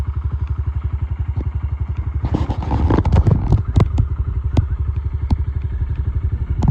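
A 2024 Honda CRF 125 Big Wheel dirt bike engine idles close by in a steady, rapid putter, with a burst of clattering knocks and thuds partway through.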